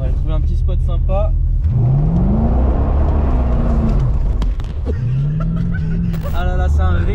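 Legends race car exhaust, recorded close at the pipes, roars up in two rising acceleration pulls from a start, loud and gritty, with people talking over and between the runs.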